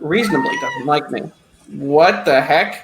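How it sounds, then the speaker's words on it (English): A cat meows loudly up close, a drawn-out call, while a person talks over and around it. "Oh no, that's my cat."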